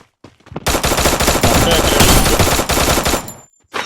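Sustained automatic gunfire from a P90 in a video game, a loud rapid burst lasting about three seconds, close and dense, with silence before and a brief sound after.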